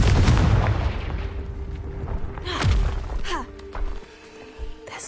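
Confringo fire spell blasting in Hogwarts Legacy: a heavy booming burst up front, then a sweeping whoosh and crackling impact noises trailing off amid game sound effects.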